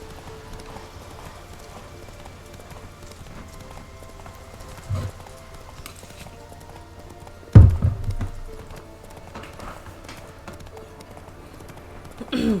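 Roach, the horse in The Witcher 3, gallops with steady clip-clop hoofbeats in the game, joined by a few louder thumps partway through.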